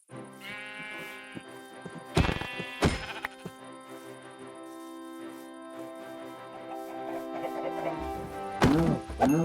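Sheep bleat in the Minecraft video game: several short, nasal bleats rise and fall over background music, alongside sharp whacking hits near the start and end.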